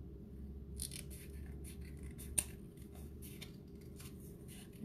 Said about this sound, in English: So I'm going to cut this out again.